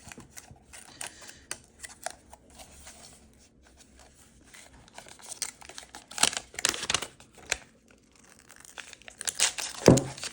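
A 2024 Mac Mini is unwrapped from its packaging: soft crinkling and tearing of wrap with scattered small taps and clicks, quiet at first and then building into louder rustling bursts near the end.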